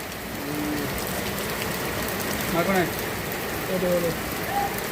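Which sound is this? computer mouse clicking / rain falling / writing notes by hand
rain falling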